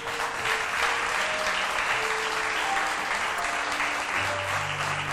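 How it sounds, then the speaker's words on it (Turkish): Steady applause from a television studio audience on a Turkish talk show welcoming a mother and son, a dense wash of clapping filling the whole stretch at even loudness. "Alkışlar Gülden Çalışkan ve oğlu Umut Anar için."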